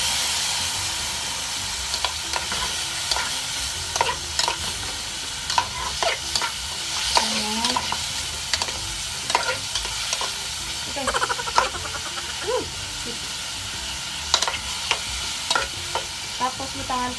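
Pork sizzles and fries in a pan while being sautéed for a pork monggo vegetable dish. A steady hiss runs underneath, and frequent scraping stir strokes sound close by, with no one talking.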